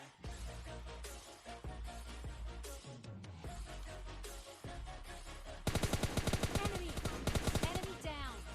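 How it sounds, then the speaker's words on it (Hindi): Gunfire in the battle royale game PUBG Lite: a loud, steady run of rapid shots that gets sharper and denser partway through, with the bursts close and hard over ongoing game noise. "मेरे टीममेट के पास में गोली चलने लगती है"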